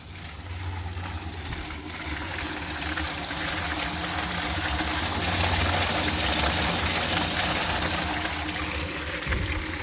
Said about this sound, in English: I can hear fresh spring water.